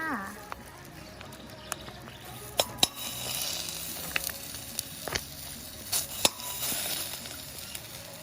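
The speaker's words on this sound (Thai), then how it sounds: "ติมกะทิลงไปผัดกับพริกแกงเล็กน้อยค่ะ" Red curry paste stir-fried with coconut milk in a pan, giving a soft continuous sizzle broken by spatula scrapes and a few sharp clinks of utensil on metal, close and moderately quiet.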